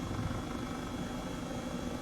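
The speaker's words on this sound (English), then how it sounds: "need to wait till the helicopter is on a certain altitude" Helicopter in the Flight Simulator 2020 video game, a dense, continuous rotor and engine drone that stays loud and even without a break.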